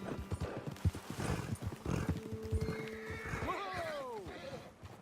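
Horses in Red Dead Redemption 2 hammer out rapid hoof clip-clops, then a loud whinny rises and falls near the end, with game dialogue spoken over the galloping.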